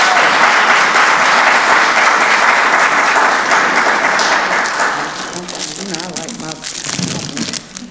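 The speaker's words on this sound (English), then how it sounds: "Give her a round of applause." Loud audience applause fills a county board of commissioners meeting, dense and steady for about five seconds before thinning into scattered claps with a few voices murmuring underneath.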